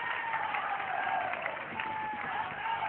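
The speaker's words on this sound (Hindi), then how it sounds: "एक बार जोरदार तालियां फिर से इसके लिए।" Audience applause at a Hindi poetry recital (kavi sammelan), a crowd clapping steadily throughout, somewhat distant and muffled, with faint murmurs of voices mixed in.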